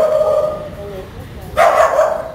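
Puppies, part of a group of about forty rescued dogs in Sa Đéc, give a short burst of high yips and barks over steady indoor background noise, alongside a person talking.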